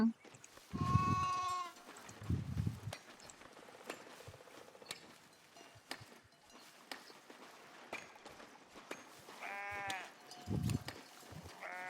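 Goats bleating in the Foundation video game, several drawn-out harmonic bleats at intervals, some loud and close, over a steady low background of game ambience and faint mechanical clicks.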